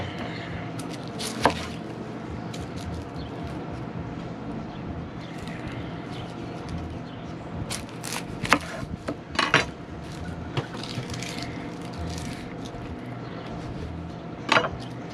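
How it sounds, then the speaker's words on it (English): Knife chopping onion and green onion on a board, scattered sharp taps with a couple of quick clustered bursts over a steady background hum, close and moderately loud, with no talking. "next thing we're going to do is cut up the onion and the green onion"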